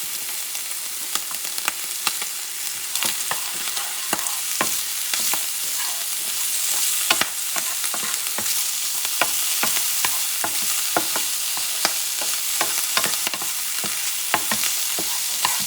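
Wild boar and pork sizzle together in a pan for a hash, a constant bright frying hiss broken by frequent sharp clicks and scrapes of stirring, close and loud with no talk.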